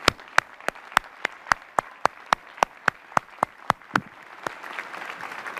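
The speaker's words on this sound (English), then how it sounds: "please join me in a robust round of applause." Applause from a commencement audience at Wentworth Institute of Technology honoring faculty, with sharp, evenly spaced loud claps over a softer crowd clapping bed that thins out near the end.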